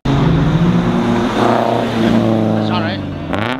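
A drift car's engine roars loud and close at Grange Motor Circuit, revving steadily with pitch shifts and rising at the end, while people talk over it.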